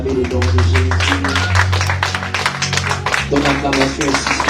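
Church congregation clapping and cheering for Jesus during a French-language worship service, a dense run of rhythmic handclaps over loud sustained music, with voices mixed in throughout.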